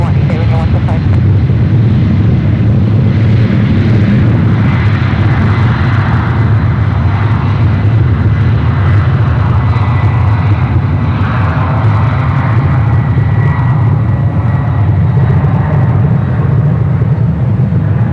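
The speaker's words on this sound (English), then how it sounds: "We do have a Delta 767-300ER lined up for one left" Jet engines of a Delta Boeing 767-300ER roar steadily and loudly throughout its takeoff roll at SFO airport, a dense low rumble with broadband hiss.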